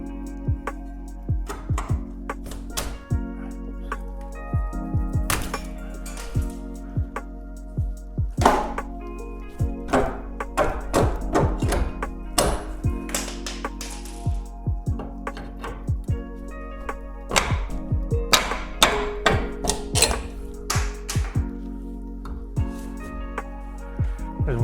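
Nails being pried and pulled from metal joist hangers to free a ceiling joist in an 1880s cottage renovation, heard as repeated sharp knocks, thunks and metallic clanks at an irregular rhythm over a steady low hum, close and fairly loud.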